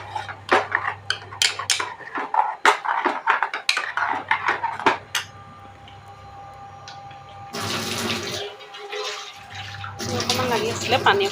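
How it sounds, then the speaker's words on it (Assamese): Water is poured into a frying pan of fried rice that has begun to stick, after a run of utensil clinks and scrapes. A steady rushing pour hisses and sizzles in bursts, fairly loud and close. "অকণমান লাগি আছিলে, পানী অকণ দি পিনে ইয়াত দি দিছোঁ।"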